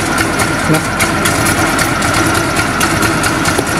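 Motorcycle engine idling steadily after a restart while being repaired for stalling, a loud continuous rumble with even texture throughout and no clear pauses.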